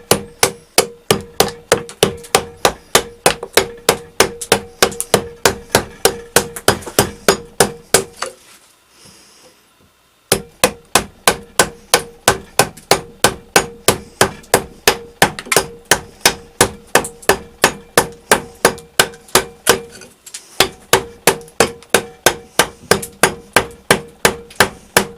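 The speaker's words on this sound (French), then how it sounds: "Et puis je le tape avec un petit maillet en châtaignier" A chisel struck repeatedly with a small chestnut-wood mallet while roughing out a wooden carpenter's frame saw restoration, giving sharp, regular close knocks in steady rhythm, with one brief pause midway and another short gap later.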